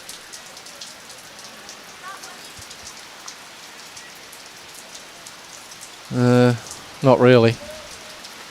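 Steady rain falls on an outdoor lawn bowls green during a state championship, a continuous hiss of drops throughout, with two short bursts of voice near the end.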